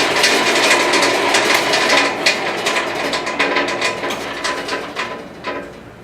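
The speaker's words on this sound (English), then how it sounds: "This is actually a 2-speed bandsaw." A two-speed bandsaw used for knife making runs on its slow setting with a close, steady mechanical whir and rapid rhythmic ticking, which fades a little toward the end.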